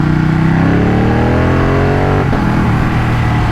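A Ducati 1199 Panigale S engine roars loudly and close as it accelerates, its pitch climbing steadily before dropping back abruptly, heard alone without talk.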